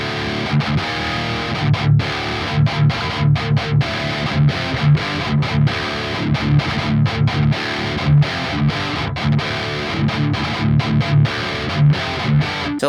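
Heavy distorted electric guitar through a Neural DSP Archetype Nolly amp simulator, 5150-style amp, plays a chugging rhythm part, loud and close, with choppy palm-muted bursts and short gaps, no voices.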